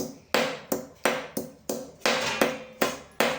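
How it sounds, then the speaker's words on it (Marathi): Garlic cloves are crushed with about ten sharp, evenly spaced pounding knocks, each a crisp close strike with a short decaying tail, in a quick steady rhythm. "तर लसूण आपल्याला असं ठेचून घ्यायचे"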